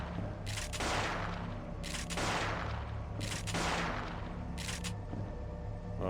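Gunfire from the video game Parasite Eve II as a monster is shot, four loud sustained bursts of shooting with brief gaps between them, dense and close over a low rumbling game backdrop.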